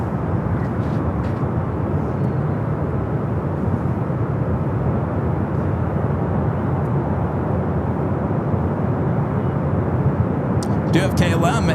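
An airliner lands at LAX as a steady, broad jet rumble that holds at moderate loudness for the whole stretch, with no voices over it.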